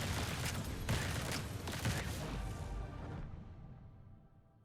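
Repeated weapon shots firing in the Grind Survivors game, a dense rapid barrage of impacts with regular heavier bursts about once a second that fades out over the last second.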